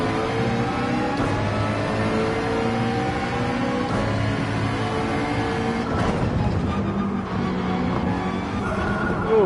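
Race car engine in Gran Turismo 7 at Spa with traction control off, roaring loud and steady with continuous revving and gear shifts, alone without talk.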